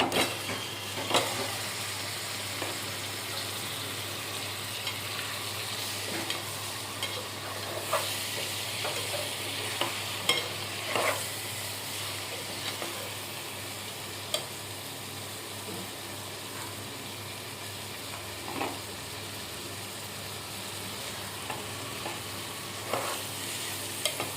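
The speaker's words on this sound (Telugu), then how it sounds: "రొయ్యలకి గుడ్లకి బాగా మసాలా పడుతుంది లో ఫ్లేమ్లో పెట్టి ఒక రెండు నిమిషాలు వేయించుకొని" Prawns and country eggs fry in masala over a low flame, a steady close sizzle with occasional stirring scrapes and small pops, no voices.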